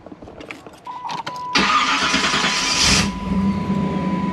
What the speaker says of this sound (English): So I'm going to start up the vehicle.